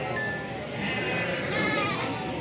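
Goats and sheep at a crowded livestock market in Barda give brief bleats, buried in a constant, close din of milling animals and general market noise.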